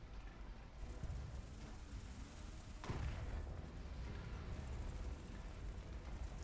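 Artillery fire during a War Thunder tank battle: a deep, faint, continuous rumble of distant guns with a heavier thudding blast midway, low in level and without speech.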